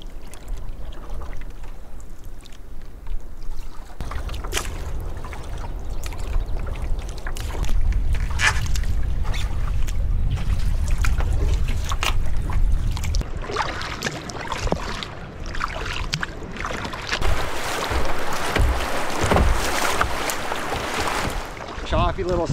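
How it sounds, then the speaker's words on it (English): Choppy offshore waves slap and wash against rocky shoreline beside a canoe, a continuous rough splashing with gusts of wind buffeting the microphone and surges that grow louder toward the end. "you're getting the action, the reverberation of the waves as they're coming in offshore and smacking against the rocks"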